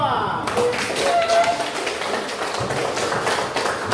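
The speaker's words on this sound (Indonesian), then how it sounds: "kita beri standing applause untuk kelompok 2" Students in a classroom applaud a presenting group, a dense wash of many hands clapping at steady volume through the whole moment, with a few faint voices mixed in.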